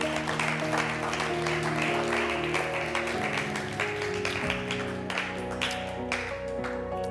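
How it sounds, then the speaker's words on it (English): A church congregation claps along for Jesus at the close of a sermon, a steady wash of hand claps over sustained organ or keyboard chords, fairly loud and continuous throughout. "Clap your hands for Jesus one more time."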